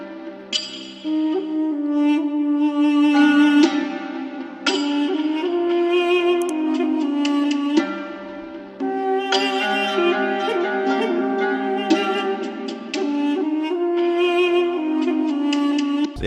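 A trap melody made in FL Studio layered with a reedy Duduk Licks flute line, giving an Arabic, Middle Eastern feel; the two parts play together steadily in phrases with brief gaps.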